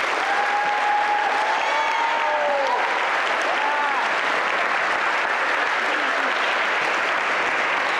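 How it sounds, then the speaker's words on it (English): A middle school assembly crowd claps loudly and steadily for a student, with a few high whistles and cheers cutting through the early part of the ovation. "Let's give him one more round of applause."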